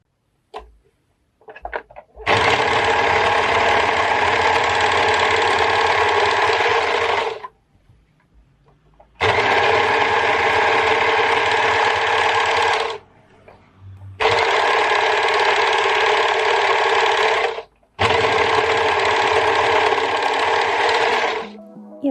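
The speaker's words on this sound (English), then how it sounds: "I'm just getting everything overlocked now" Overlocker sewing machine stitching fabric pattern pieces for a summer collection, running in four loud sustained bursts of steady whirring with short pauses between, no talk over it.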